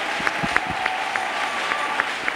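A church congregation applauding for Jesus Christ during a testimony gathering; a continuous wash of clapping and crowd noise with a few sharper hand claps standing out near the front.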